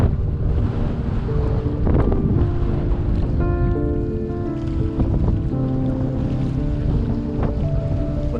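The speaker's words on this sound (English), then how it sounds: "The wind really was quite strong." Strong, gusting wind roars across the microphone while sea kayaking beneath the Isle of Skye cliffs, a continuous loud buffeting with water washing around the boat and brief tonal flutters, no talking.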